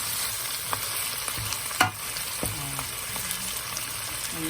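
Garlicky pork adobo fries in its own rendered fat, giving a steady crackling sizzle with occasional sharper pops and a bump of stirring near the middle.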